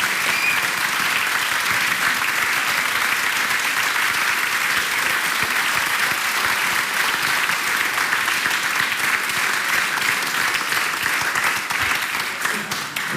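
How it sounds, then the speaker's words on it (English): An audience at a Citizens' Dialogue held in a Rotterdam school applauds the First Vice President of the European Commission, with steady, sustained clapping that fills the room for the whole stretch and eases slightly at the end. "give him one more round of applause."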